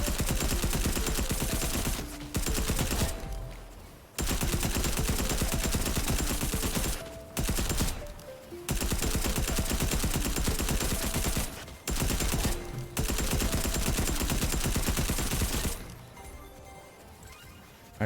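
Bursts of rapid hip-fire gunfire in Fortnite, loud and close, in long sustained volleys broken by short pauses, with no talking.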